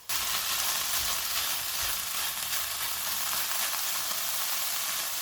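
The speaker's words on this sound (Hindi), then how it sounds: "चूल्हे को मीडियम कर देते हैं और इसको ऑयल अलग होने तक भूनेंगे।" Minced meat keema fries on medium heat until the oil separates, giving a steady, bright sizzle with occasional soft stirring bumps, close by and continuous, with no talking.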